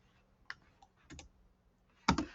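Sparse keyboard clicks from a computer keyboard: a few quiet, isolated taps followed by a louder double click at the end, alone in a quiet room.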